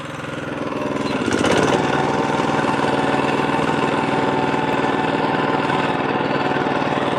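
A lawn mower engine starts and climbs to a loud, steady running drone during a mow after verticutting, continuous and close for several seconds with no talk.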